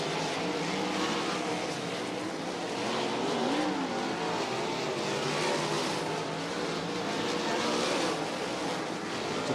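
Sprint cars roaring around a dirt track during hot laps at Bridgeport Speedway, a continuous dense engine drone with passing revs, loud and sustained throughout.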